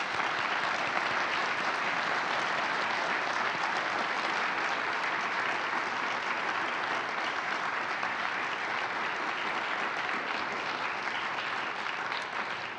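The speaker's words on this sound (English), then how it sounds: "Let's give all of our distinguished honorees another round of applause." Steady, dense applause from an audience at an agency honor awards ceremony for distinguished honorees, continuous and even for its whole length with no voices over it.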